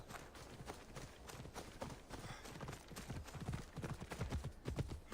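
Horse hooves clip-clopping at a brisk gait in Assassin's Creed Odyssey, a quick steady run of hoofbeats over ground, fairly close and moderately loud, with no voices.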